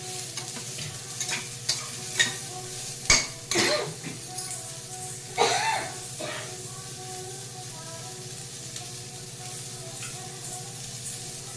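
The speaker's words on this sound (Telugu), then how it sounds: "ఒకసారి ఇవన్నీ వేయించుకోవాలి" Onions and green chillies fry in a pot with a low, steady sizzle while a spoon stirs and scrapes against the metal a few times, with faint clinks and a brief cough.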